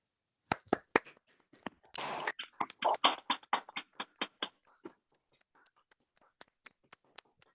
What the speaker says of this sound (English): give a final round of applause to all the students for their efforts